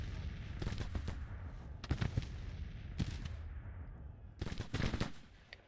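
Artillery in the Civil War strategy game Grand Tactician booms in separate heavy volleys, several distinct cannon blasts spaced a second or so apart, each trailing off into a rumbling echo over distant battle noise.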